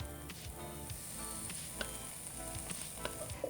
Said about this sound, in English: And now I'm gonna add the corn.